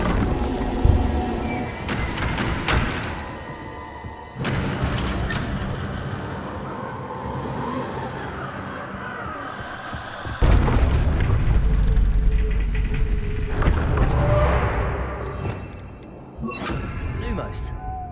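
Bombarda explosion spell in Hogwarts Legacy: several heavy booming blasts at irregular intervals, each followed by rumbling debris and sustained roar, loud and close, with a voice speaking amid the spell effects.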